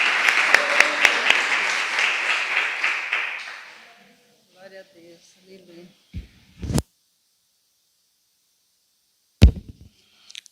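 Congregation in a church applauding loudly for about four seconds, dense clapping that then stops, followed by a few scattered knocks and two sharp thumps in near silence.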